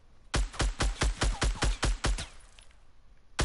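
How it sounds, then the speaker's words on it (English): A rapid series of about ten sharp, evenly spaced gunshots rings out in the Fortnite video game, loud and close, then stops, leaving faint background noise and one final shot at the end. "Where are we getting shot from?"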